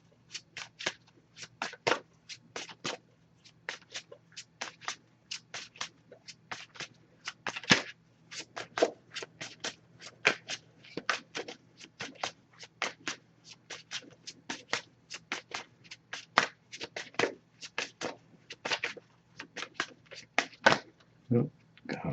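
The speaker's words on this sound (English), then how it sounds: "Just going to pull a single card from this deck." An oracle card deck being shuffled by hand gives a long run of quick, crisp riffling and flicking bursts in an irregular rhythm, close up and fairly quiet, with no talking over it.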